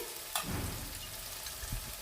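Onion frying in a pan for a chicken curry gives off a steady, close sizzling hiss, with a brief sharp scrape of stirring near the start.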